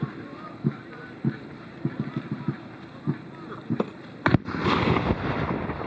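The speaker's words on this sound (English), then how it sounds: "now the cannons are starting on the Confederate side" Cannons fire from the Confederate side at a 2024 Civil War reenactment in Canton, a series of distant dull booms at irregular intervals, the last one bigger and followed by a rolling rumble.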